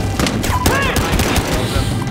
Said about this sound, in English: You're getting shot up, man.